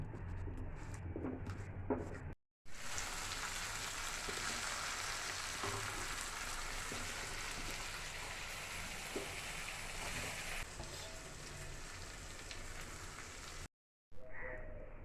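Papaya coated with coriander and cumin powder frying over low heat, a steady faint sizzle with occasional stirring scrapes, close, broken by two brief silent gaps.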